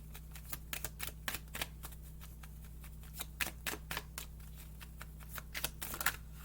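Tarot cards drawn and shuffled for a reading make a quiet, irregular string of crisp snaps and flicks over a low steady hum, with no talking.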